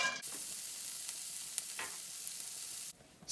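Arbol chilies and peanuts fry briefly in a hot pan, giving a steady, close hiss of sizzling oil that cuts off abruptly near the end, with no voices.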